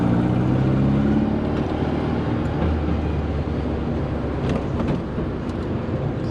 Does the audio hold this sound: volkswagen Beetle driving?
yes